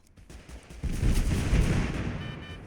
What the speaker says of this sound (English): This, honestly, right now would be perfect time to throw that cluster grenade, because you can get 2 for 1.